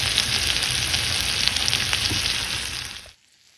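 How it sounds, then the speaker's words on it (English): Eggs and gouda stirred in butter in a cast iron pan over low heat give a steady, close sizzle with light scraping throughout, stopping abruptly near the end. "stir everything in. Make sure it all gets coated with that butter."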